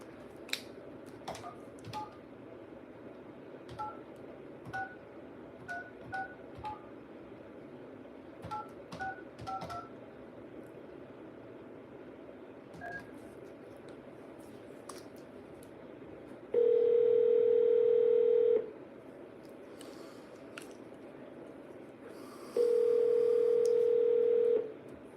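Telephone placing an outbound call: a scattering of short, faint dial clicks and beeps, then two loud steady tones of several seconds each, the second after a quiet gap, with no voices.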